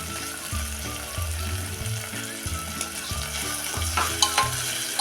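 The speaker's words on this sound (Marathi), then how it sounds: "आलं लसणाची चव आपल्या तेलात चांगली उतरेपर्यंत परतून घ्या" Ginger, garlic and peas sauté in hot oil for a Muslim-style pea pulao, giving a steady close sizzle broken by repeated scraping stir strokes at an even rhythm, with no voices.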